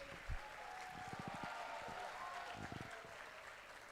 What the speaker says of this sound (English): Very big round of applause, please.